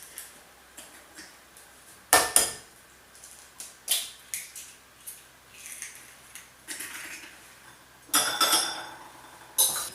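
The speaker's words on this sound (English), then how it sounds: "Take 2 eggs and beat them together in your first large mixing bowl" Two eggs being beaten together in a large mixing bowl: irregular light clinks and ticks of a utensil striking the bowl, with a few louder bursts of rapid tapping against quiet background.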